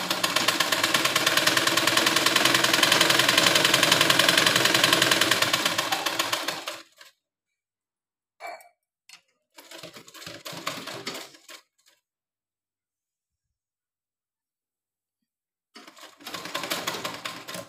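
Sewing machine running steadily at close range while stitching blouse fabric, a continuous loud mechanical whir for several seconds, then stopping, followed by a few short bursts of handling noise and shorter runs.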